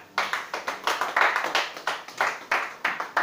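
Rhythmic clapping at a church worship service, a steady pulse of sharp hand claps repeating about every third of a second, fairly close and without talk.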